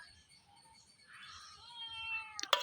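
A kitten meowing quietly, one thin drawn-out meow, followed by a brief sharp clatter at the end.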